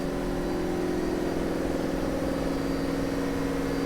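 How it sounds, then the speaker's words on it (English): Large generators run in the engine room of an ISA 45 GT superyacht, a steady, loud, even machinery hum with constant tonal drone and no change in pace. "Huge generators in here, huge exhaust systems"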